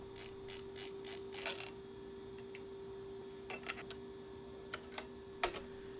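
A collet is swapped in a K&T universal milling head, giving short bursts of close metallic clicks, taps and rattles with quiet pauses between them over a faint steady hum.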